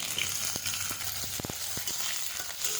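Panch phoron spices with crushed garlic, ginger and chilli frying in hot oil, a soft steady sizzle with a few light clicks of stirring.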